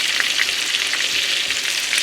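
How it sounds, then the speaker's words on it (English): Steady, dense sizzling of pork chops frying in a hot pan, a continuous crackle with small pops throughout and no voices. "while my pork chops are frying"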